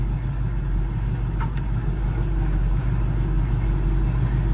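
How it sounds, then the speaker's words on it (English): An Oldsmobile's engine idles steadily after a stall converter install, a continuous low rumble running unbroken and fairly loud throughout. "We'll know immediately right here how the car idles down."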